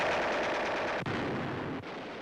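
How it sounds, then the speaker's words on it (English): Automatic and heavy gunfire, Tommy guns with field mortars, rattles through a jungle battle as a dense continuous roar, with two brief dips in the din. "With field mortars and Tommy guns, they blast away at the slightest sound."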